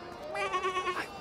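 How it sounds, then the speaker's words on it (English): A single sheep bleats nearby in a wavering, quavering call lasting about a second, loud and clear. "look at that sheep!"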